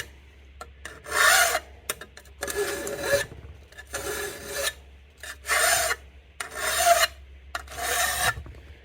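A hand file rasps across the teeth of a garden tool saw clamped in a wooden clamp, in about seven separate one-direction strokes with short quiet gaps between them, close and alone.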